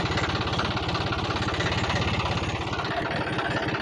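A John Deere 5105 diesel tractor engine idles up close during servicing, a loud, even, rapid knocking throb with a steady rhythm and no talk over it.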